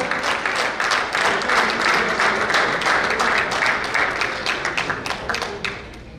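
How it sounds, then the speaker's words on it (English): Audience applause at a cricket club awards banquet for the regular season MVP: a dense crowd clapping steadily and fairly loud for several seconds, thinning into scattered individual claps near the end. "Big round of applause, guys."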